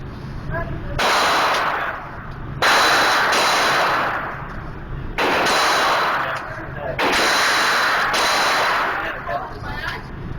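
Rifle fire with old ammunition, loud close shots in rapid bursts that ring out and fade, separated by short pauses, recorded outdoors.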